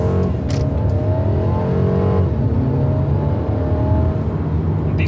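2020 Mercedes-AMG A220 on a night drive, its detuned engine accelerating at about three-quarter throttle with a rising, climbing drone heard from inside the cabin, steady and fairly loud, with no talking.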